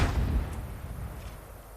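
A heavy, low boom of tank cannon fire in a video game hits at the start and rumbles away, followed by a steady low engine drone.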